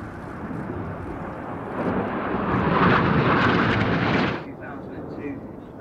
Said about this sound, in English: These 4 aircraft are now closing at around 850 miles an hour.